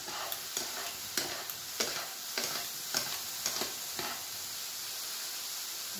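Fruit sautéing in a frying pan, a steady hiss broken by a series of sharp scraping stir strokes during the first four seconds, then a plain even sizzle, close and moderately loud with no voices.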